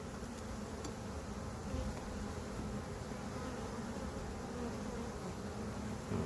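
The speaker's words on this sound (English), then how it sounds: "there's so many bees" A dense swarm of honey bees in a nuc box gives off a steady, close, continuous buzz with no breaks and no voices.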